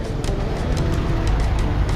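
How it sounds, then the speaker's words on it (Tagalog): Motor tricycle passing on a street under road construction, a steady buzzing engine drone close by that builds slightly as it goes past, with no talk. "Ayan yung tricycle oh."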